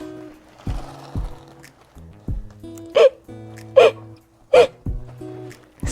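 A voice imitates skeleton hiccups during a children's book read-aloud, with three sharp hic sounds evenly spaced among short spoken phrases.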